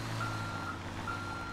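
Truck reversing beeps in GTA 5: a steady electronic beep repeats about every half second over a low, constant engine rumble, with no talk.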